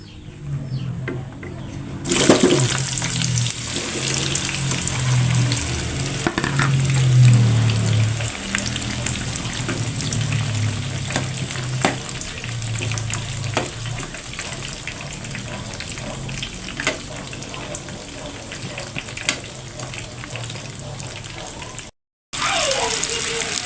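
Eggplant fries in hot oil in a home kitchen, a steady loud sizzle and crackle lasting throughout, with brief louder bursts of spattering.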